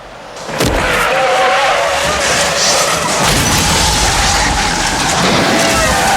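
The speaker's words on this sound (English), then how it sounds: "The falling dummy causes a massive car pileup below." A massive car pileup on a busy highway below a cliff in a movie scene: a loud, sustained burst of crashing, smashing metal and skidding that starts abruptly and rumbles on.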